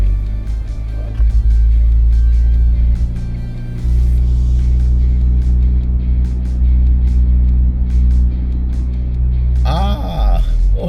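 A car on BFGoodrich KO3 all-terrain tyres pulls away from a standstill on loose dirt, a loud low engine rumble holding steady with slight rises, a brief rustling burst near the end.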